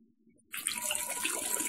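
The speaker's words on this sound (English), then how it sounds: "what we're going to do now is continue to add water" Tap water gushes steadily into a plastic beer fermenter during home brewing, starting abruptly after a brief quiet moment and running as a close, continuous splashing pour.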